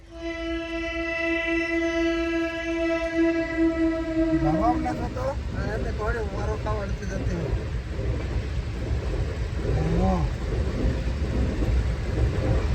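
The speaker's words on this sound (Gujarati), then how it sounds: "ટ્રેન આવી ગઈ" A train horn blares steadily for several seconds, then gives way to the loud rolling rumble of the train passing close by, with people talking over it.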